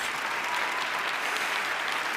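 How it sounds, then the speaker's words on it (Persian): Steady, dense applause from an audience at a Quran recitation competition, honoring a young reciter's parents, sustained and even throughout with no voices over it. "تشویق بکنیم پدر مادرش."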